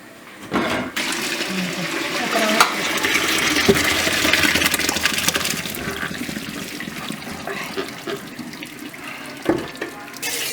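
Water poured off cooked plov rice and broad beans into a strainer, a loud steady rush and splash of draining liquid that builds, holds, then tapers off, with brief clatters at the start and end.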